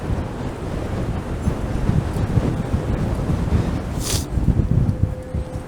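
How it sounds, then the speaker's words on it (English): Freezing wind buffets the microphone on a winter city walk in Toronto, a steady loud rumbling roar that continues throughout with no one speaking. "I am walking directly into a freezing wind here."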